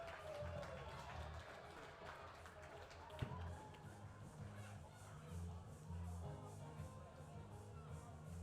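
Crowd applause at a minor-league baseball game between the Batavia Muckdogs and Auburn Doubledays, honouring retiring teachers: steady, distant-sounding clapping and crowd murmur across the stands, fairly faint and continuous, with a single sharp tap partway through.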